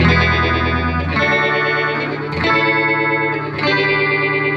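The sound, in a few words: guitar through phaser pedal, script mode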